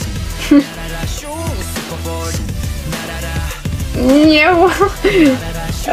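A cat meows several times, high wavering cries over music and background chatter, growing louder and more drawn-out near the end.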